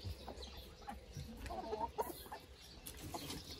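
Hens clucking softly at a farm that also keeps rabbits and ducks, a few short calls rising over quiet background rustle, fairly faint and unhurried.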